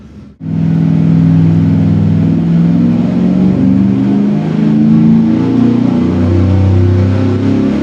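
A V8 engine revs hard on a dynamometer during a back-to-back EFI versus carburetor test pull. It roars in continuously from a sudden start, steady, loud and close, with the pitch rising through the pull.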